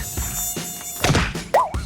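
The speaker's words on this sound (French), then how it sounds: "Aïe! Sale moustique." Mosquito whining close by, a thin high buzz that swoops up and down in pitch, alongside brief slaps and rustling sounds.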